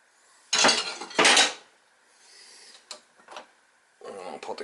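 Beef goes into a crock pot with clattering clinks of a utensil against the pot, two loud bursts followed by smaller taps and scrapes, and talking mixed in.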